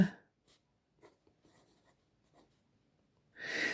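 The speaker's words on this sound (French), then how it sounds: "j'ai décidé d'écrire les textes" A pen writes in a notebook: faint, sparse scratches and taps on paper close up and otherwise quiet, framed by brief louder rustling at the start and end.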